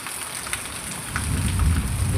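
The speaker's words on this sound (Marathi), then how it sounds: "खतरनाक म्हणजे पाऊस चालू आहे" Steady, heavy rain falls in a dense wash of noise, with a low rumble swelling toward the end.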